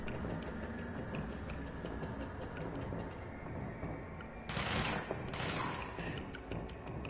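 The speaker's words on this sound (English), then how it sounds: "What the heck is shooting at me?" Rapid automatic gunfire in the video game Control rattles over a dense mechanical background, with two loud bursts of shots close together a few seconds in.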